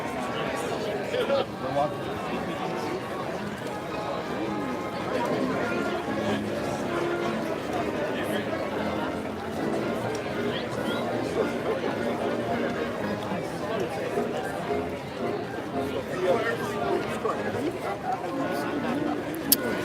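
A dense crowd murmurs and chatters on Main Street USA at a Disney park, a steady babble of many voices with footsteps and occasional nearer speech over nearly twenty seconds.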